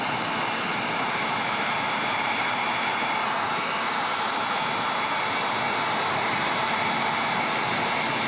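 A heat gun blows a steady, loud stream of warm air across a chrome vinyl wrap on a Pro Boat Recoil 2 RC boat, a continuous broadband rush with no pauses and no voices.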